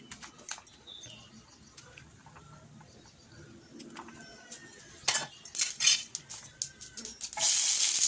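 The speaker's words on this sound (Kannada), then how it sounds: "ಸ್ವಲ್ಪ ಸಾಸಿವೆ ಹಾಕ್ತಾಯಿದ್ದೀನಿ." Mustard seeds pop and crackle in hot oil in a pan, giving sparse ticks at first, then a dense run of sharp crackles and clinks near the end.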